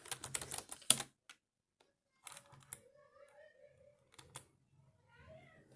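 A password is typed on a keyboard while setting up a NAS server on an old PC: a quick flurry of close key clicks at the start, then a few sparse taps and soft handling noises, with faint background tones.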